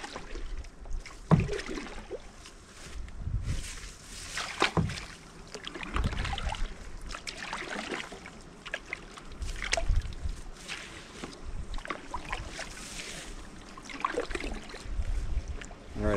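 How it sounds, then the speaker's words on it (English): Running water in a woodland stream, a continuous splashing, trickling wash heard close by outdoors, with occasional brushing and footstep-like knocks. "Alright, I hear water running up here."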